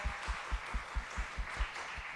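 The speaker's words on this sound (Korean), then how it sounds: "우리 감사와 영광의 박수를 우리 하나님께 올려드리도록 하겠습니다" A church congregation claps in a steady rhythmic beat, about ten even claps, fairly faint and without voices.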